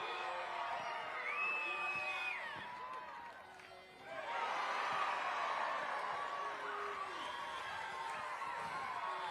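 A large crowd cheers and whoops at an outdoor dunk contest during Spokane Hoopfest, a 3-on-3 basketball tournament. The roar is steady, dips briefly, then surges back loud and sustained.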